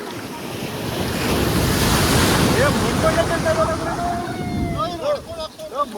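Ocean waves break on the shore on a trip toward Mangalore, with a loud, continuous surf roar and buffeting wind noise against the microphone. Voices call out faintly over the waves near the end.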